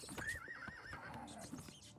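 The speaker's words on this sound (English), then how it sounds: "I'm gonna leave my horse right here next to the statue so I'll remember." A horse in Oblivion Remastered whinnies with a rising, wavering neigh while hooves clop steadily underneath, close and fairly loud with no talking over it.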